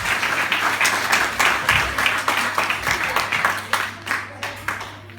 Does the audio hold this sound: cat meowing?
no